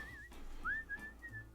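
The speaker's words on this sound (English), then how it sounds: "Mickey's out whistling away as he's going to take his trash can out." Mickey Mouse whistles a cheerful, wavering tune in short phrases as he takes out his trash can on a residential street in the cartoon Canned, clear and close with no talking.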